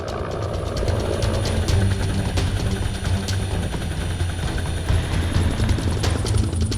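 A military helicopter at an Air Force base search-and-rescue competition, its engine and rotor giving a loud, continuous drone with steady rhythmic blade thumping throughout, no voices.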